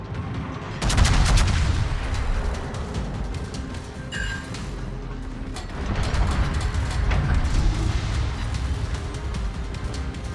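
Secondary guns on a battleship in World of Warships fire in rapid, overlapping volleys, loud bursts of gunfire repeating across the whole stretch over a steady rumbling background.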